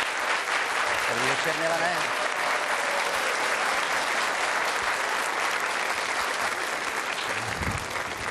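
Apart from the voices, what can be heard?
audience applause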